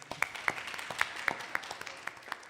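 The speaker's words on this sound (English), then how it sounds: "Please give them a round of applause, everyone." Sparse, scattered hand claps from a small audience at a religious gathering, a few light individual claps spread unevenly over a couple of seconds, faint and fairly distant.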